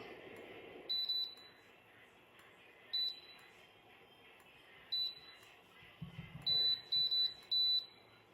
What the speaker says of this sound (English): I don't know why it's still beeping